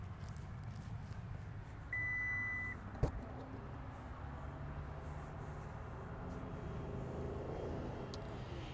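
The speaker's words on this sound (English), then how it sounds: "just wave your foot under the bumper to open it up" Hands-free power tailgate on a 2021 Toyota Highlander Platinum SUV opening, with a steady beep, a sharp click and a low motor hum that runs on as the gate rises; no talking.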